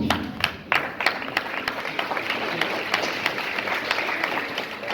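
Audience applause at a heritage and oral-tradition celebration, a steady patter of many hands clapping in a hall, with a few sharper claps at the start and general crowd noise throughout.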